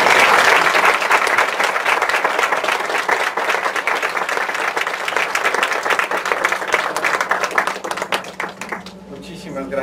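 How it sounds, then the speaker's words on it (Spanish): An audience at a lecture-series panel gives a loud, sustained round of applause for the speakers, dense clapping filling nearly ten seconds before thinning out at the very end. "vamos a darles un fuerte aplauso a nuestros..."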